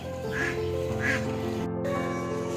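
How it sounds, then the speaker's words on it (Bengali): Village ducks quack loudly outdoors, two clear honking calls in the first second followed by ongoing low murmuring and background hum. "এত আওয়াজ করছে কেন হাঁসগুলো?"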